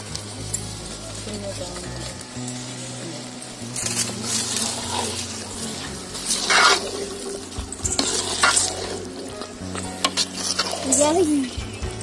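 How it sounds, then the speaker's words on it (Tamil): Egg gravy is stirred in a pan in a village family kitchen: steady scraping and sloshing over a soft sizzle, with louder clatters of the spoon against the pan and voices talking throughout. "முட்டையை சேர்த்து கிளறிக்கலாம்"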